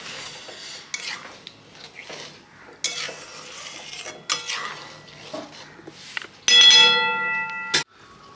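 Boiled eggs are stirred in masala with a little oil and butter in a hot pan, making scattered scrapes and clinks of a spoon against metal over a faint sizzle, with one longer ringing scrape near the end.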